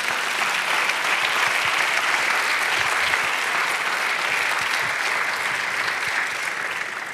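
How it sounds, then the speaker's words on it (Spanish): A church congregation at a morning service breaks into sustained, full applause, a thick and constant roar of clapping that holds for the whole span and eases slightly at the end. "Denle un aplauso al Señor en esta mañana."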